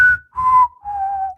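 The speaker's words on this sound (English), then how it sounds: "okay, don't whistle too much." A person whistles three clear sustained notes, each dropping slightly in pitch, close and loud with short breaths between them and no talking.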